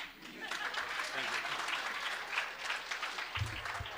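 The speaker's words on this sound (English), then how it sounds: "let us give them a round of applause" Audience applause at a faculty research day session, steady close clapping from a roomful of people lasting the whole stretch, with a voice briefly heard near the end.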